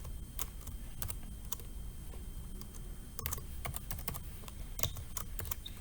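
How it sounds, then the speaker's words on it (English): Steady typing on a computer keyboard, a continuous run of quick, close key clicks with occasional sharper taps, no voices. "we just need to type"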